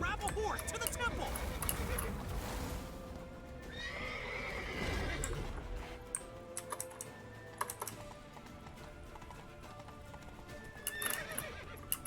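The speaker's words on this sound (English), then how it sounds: "Grab a horse to the temple." A horse's hooves clip-clop at a run and it neighs in the video game The Witcher 3, loud at first and then fading, with players chatting over the gameplay and keyboard keys tapping.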